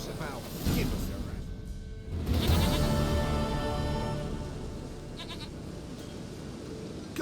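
A goat in the video game The Witcher 3 bleats amid game ambience, with a character's voice speaking over it and a brief whoosh.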